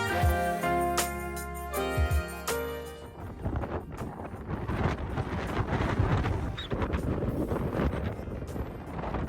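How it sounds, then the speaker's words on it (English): Strong wind gusting over the cliffs of the Atlantic coast near Lisbon, a steady broadband roar buffeting the microphone that takes over after a few seconds of music at the start. "It can get really windy up here."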